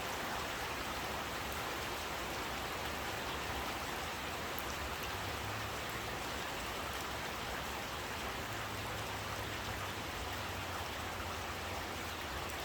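Steady heavy rain pours down during a thunderstorm over Grenoble in the Alps, a dense continuous hiss with no distinct thunder claps, close and unbroken throughout.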